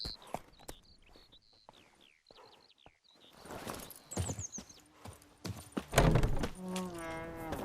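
Hooves of Roach, a horse in The Witcher 3, clip-clop in an uneven rhythm through the opening seconds, followed by a snort and whinny-like sounds, then louder tonal ambience and a low hum toward the end.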